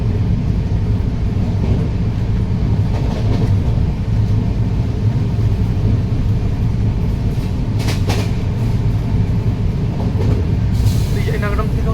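Digha–Visakhapatnam Express running between Vizianagaram and Visakhapatnam, a loud continuous low rumble of the rolling train heard from inside a coach, with brief rattles and clacks rising above it.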